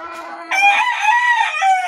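A rooster crows loudly and close over a steady chorus of clucking caged hens, the crow stretching out for over a second.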